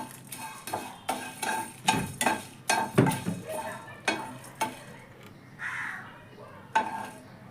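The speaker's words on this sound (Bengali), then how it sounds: "শুকনো কড়াইতে আমি এবার এটাকে সুন্দর করে ভেজে নিচ্ছি।" Marinated spices are dry-roasted in a dry wok, with repeated scraping and stirring strokes of a spatula over a faint sizzle, close and rhythmic, pausing briefly before a final scrape.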